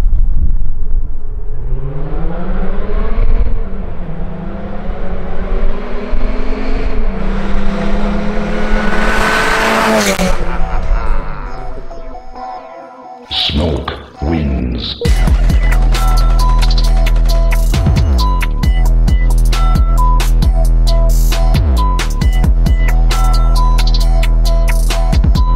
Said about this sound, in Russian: мне очень нравится звук у этой машины